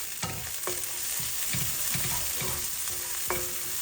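Onions and chilies sizzle steadily in hot mustard oil while a utensil scrapes and stirs the pan in repeated strokes, close and moderately loud.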